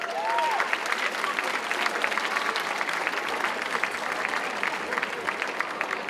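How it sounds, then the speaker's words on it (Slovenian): Steady applause from an audience at a centenary celebration event, a continuous crowd of clapping hands at moderate loudness that holds evenly from start to finish, with faint voices mixed in. "En aplavz zanj."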